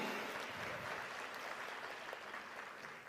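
An audience at an awards and recognition event claps in a brief, faint burst of dense applause that stays steady for a few seconds.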